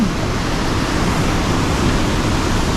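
Water rushes through a river control dam in Terrebonne in a steady, loud, close roar of falling and churning flow that holds unbroken for the whole stretch with no voices.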